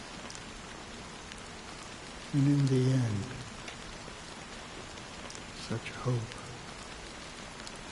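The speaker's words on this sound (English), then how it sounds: "amidst the fine drizzle of black rain" Steady rain falls in Honkai: Star Rail, a fine drizzle of black rain hissing evenly throughout, with a voice speaking briefly partway through.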